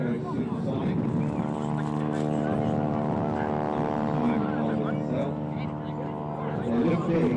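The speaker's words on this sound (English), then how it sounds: "You can hear that rasping engine from the harbour. That's the tip of the propeller going supersonic." A propeller aircraft at a seaside airshow drones with a steady rasping, harmonic-rich engine note held for several seconds at moderate distance, with a commentator talking over it.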